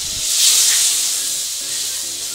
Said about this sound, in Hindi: फिर हम इसमें दूध डाल देंगे